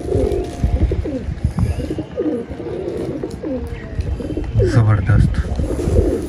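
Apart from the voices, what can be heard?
pigeons cooing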